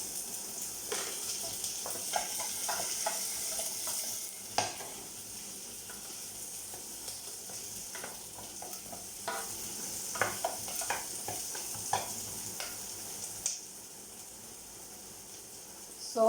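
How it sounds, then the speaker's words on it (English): Celery frying in a hot pan while being stirred, a continuous sizzle broken by repeated scraping and clattering strokes of a utensil against the pan, close and fairly quiet with no talking. "I'm gonna put my celery just to cook it a bit."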